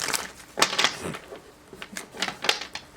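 Tarot cards are shuffled in short bursts of crisp riffling and slapping, fairly close and quiet, with pauses between bursts and no talk.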